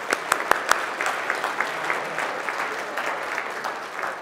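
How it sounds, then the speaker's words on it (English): An audience at a talk breaks into sustained applause, dense overlapping clapping from a crowd with a few sharp nearby claps standing out at the start. "Can we give Andy a big round of applause, please?"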